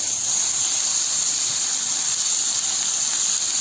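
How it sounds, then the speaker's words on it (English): Goat meat frying in hot oil in a pot, a steady, loud, close sizzle and hiss that runs without pause throughout. "So I'm going to fry my meat now."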